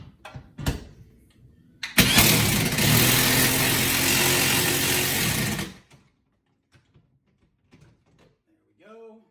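A half-inch drive electric impact wrench drives a bolt into a wall, hammering loudly and steadily for about four seconds before stopping, with brief faint handling noises and a voice afterward.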